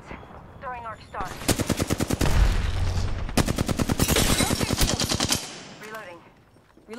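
Rapid automatic gunfire bursts in Apex Legends, loud and close, in dense rattling volleys broken by short pauses, with brief game effects around them.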